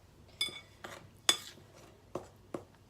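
An oily bowl of wet cinnamon-roll ingredients tipped into another bowl, with several sharp clinks and knocks of bowl against bowl and a soft slide, close and fairly loud in a quiet kitchen.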